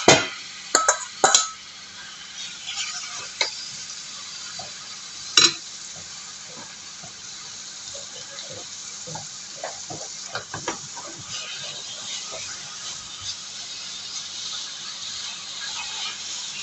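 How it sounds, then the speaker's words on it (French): Chicken pieces for Thai rice hit a hot frying pan with a sharp sizzle, followed by scattered scraping and stirring taps over a lower, steady frying hiss, close by. "Allez, je viens verser la viande dans la poêle."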